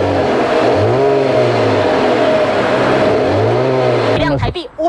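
A parked Porsche sports car without licence plates revs its engine in a residential community. Two loud, close rising-and-falling rev sweeps are followed by a sudden cut-off and a few brief rattles.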